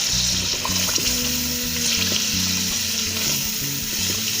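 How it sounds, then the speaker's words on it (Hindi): Potatoes frying in a kofta curry gravy, a steady close sizzle and bubbling with occasional stirring scrapes, continuous and alone without talk. "ये हमने इसमें आलू भी ऐड कर दिए और इसकी फिर भुनाई करेंगे"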